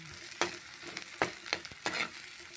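Garlic sautés in a pan for bitter gourd with scrambled eggs, a quiet sizzle broken by several sharp scraping stirs of a utensil against the pan.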